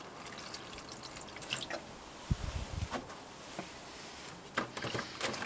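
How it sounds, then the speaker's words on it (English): Water trickles and drips onto a dry ball of coco coir, soft wet splashes and squishy pattering coming in irregular bursts, close and fairly faint. "So I'm just gonna wet the coco coir"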